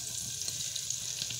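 Spices of turmeric, chili, salt and cumin sizzling in hot oil for a tadka in a clay pot while making chana dal, a steady bright crackling hiss without speech.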